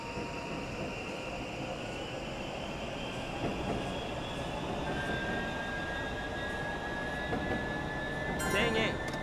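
A Yamanote Line E235 series train in a video game rumbles steadily as it pulls away from Shibuya, with a rising electric motor whine and a brief clatter near the end.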